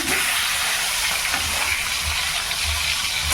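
Four food pieces fry together in a hot pan with oil. The sizzle is a constant, loud, close hiss with soft bubbling underneath.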